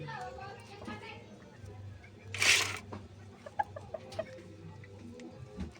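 A hen clucks in a backyard coop, short clucks scattered across the moment with a louder burst midway, mixed with rustling and a low steady hum while someone talks throughout.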